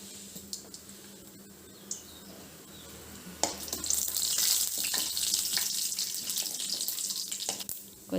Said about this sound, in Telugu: ఇప్పుడు కొద్దిగా తాలింపు గింజలు,